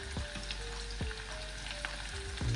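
Garlic and chili cooking in a pan, with a steady close sizzle and occasional stirring clatters against the pan.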